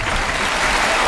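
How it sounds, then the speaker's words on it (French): Thunderous applause from a French audience welcoming a special guest, a dense, steady wash of clapping filling the whole short moment at close range. "je vous demande un tonnerre d'applaudissements pour Antonin"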